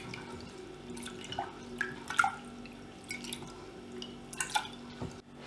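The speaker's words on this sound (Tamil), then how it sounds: "இதல தண்ணி ஊத்திட்டு இத நல்லா வாஷ் பண்ணி எடுத்துக்கணும்." Lentils swished and rinsed in water in a kitchen bowl for a spinach dal, a series of close, wet sloshes and drips in irregular bursts against quiet room tone.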